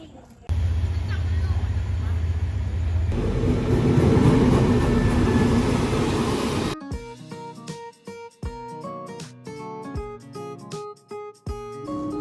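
A train rumbles and roars loudly nearby at a railway station in Thailand for several seconds, then the noise cuts off and rhythmic music with steady beats takes over.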